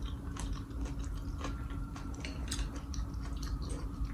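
Crunchy ramen noodles and vegetables chewed close up, with rapid irregular crisp bites and crunches over a low steady background hum.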